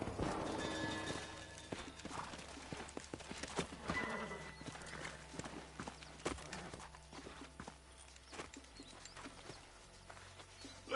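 Horses walk with steady clip-clop hoofbeats and let out neighs in the Red Dead Redemption video game, the hooves close and continuous over soft background sound.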